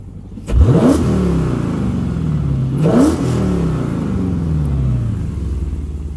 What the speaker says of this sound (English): I'm going to rev it up again for you.